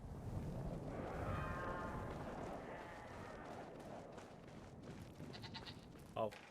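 Goats bleating in the video game Brothers: A Tale of Two Sons, layered wavering bleats over a rumbling ambient game background, with a short sharper cry near the end.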